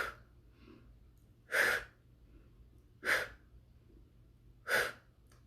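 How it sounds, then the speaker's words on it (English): Breath pushed out forcefully three times during a breathing exercise, each exhale a short, sharp whoosh spaced evenly about a second and a half apart, close and alone against a quiet background. "use your breath to help it move."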